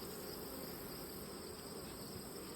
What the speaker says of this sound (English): Still lots of bees.